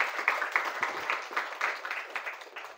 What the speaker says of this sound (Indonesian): Tepuk tangan buat dua pembaca hari ini